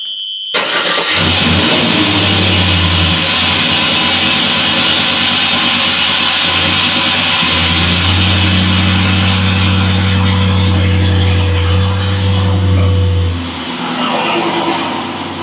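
A 1986 Chevrolet Monte Carlo SS engine cranks and fires, then settles into a loud, close, rumbling idle broken by several blips of revving before easing down at the end.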